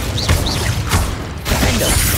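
The Incendio fire spell goes off in the video game Hogwarts Legacy with loud, dense whooshing bursts and crackling impacts, plus brief rising tonal swooshes, alone without speech.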